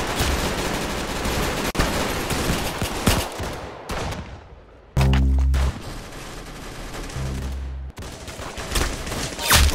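Video game gunfire in repeated bursts of loud shots, with heavy booming blasts partway through and steady firing around them; no talking.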